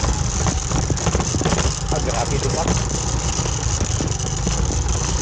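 A motorcycle engine runs close and loud, a steady rumbling drone with slight rattle, while a rider talks over it.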